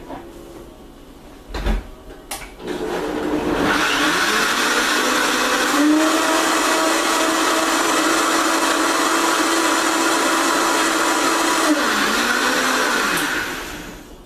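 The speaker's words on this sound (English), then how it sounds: "And then we'll blend this together." A blender whirs persimmon, almond milk and nutmeg into a nog, starting after a few clicks and knocks, then running as a steady loud whine for about nine seconds before stopping.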